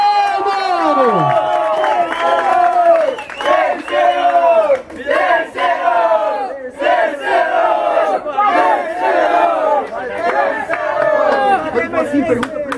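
A large crowd at an MC rap battle roars, cheers and shouts in loud, overlapping waves, voices rising and falling continuously close by.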